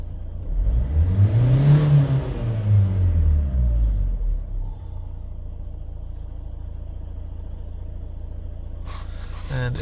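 A Renault Trafic van engine revs up and down in one strong rise and fall, then settles to a quiet idle, with brief voices near the end.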